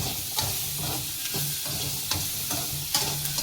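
Cumin and cashew nuts sauté in a pan for a mushroom gravy paste. A close sizzle runs under rhythmic stirring, and a spatula scrapes in short strokes about once a second. No voices.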